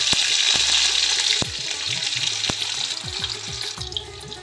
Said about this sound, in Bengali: এক টুকরো পনির এরকম গোটাই আমি তেলের উপর দিয়ে দেবো